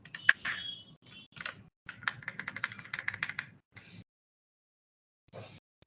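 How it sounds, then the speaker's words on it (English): Rapid bursts of computer keyboard typing while entering random data into a Microsoft Excel spreadsheet, close and fairly quiet, with short pauses between runs of keystrokes and a brief final flurry after a gap. "I'm typing some random data."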